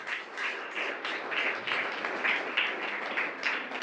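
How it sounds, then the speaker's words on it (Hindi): Church congregation clapping in thanks to the Lord during a pastor's service, a fairly even wash of clapping hands with rhythmic surges, heard at moderate distance. "ताली बजाकर प्रभु का धन्यवाद करें"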